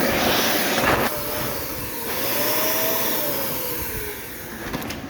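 A clogged vacuum cleaner runs steadily with a strained, broadband roar and a faint rising-then-falling whine, continuous and fairly close with no talking.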